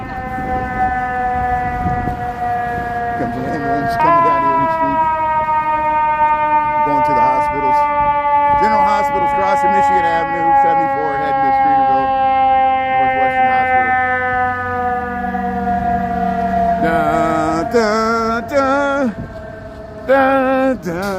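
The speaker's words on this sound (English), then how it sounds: "There's the sirens here." An ambulance siren on a Chicago street wails loud and near, its steady rising and falling tone sustained throughout, with some street noise underneath.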